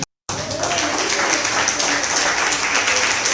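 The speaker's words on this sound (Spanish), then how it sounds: "Dan un aplauso al Rey." A church congregation breaks into applause after a brief silence, dense clapping filling the room steadily at close range, with some voices mixed in.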